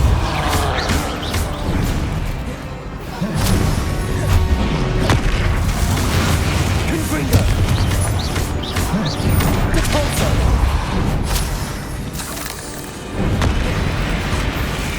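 Combat spells in Hogwarts Legacy, including a Bombarda blast, go off as heavy booms and crashes piling onto one another in a loud, continuous battle din.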